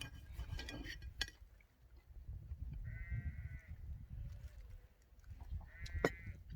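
A lamb bleats twice outdoors, at a moderate distance, with short wavering calls a few seconds apart over quiet rustling and occasional knocks.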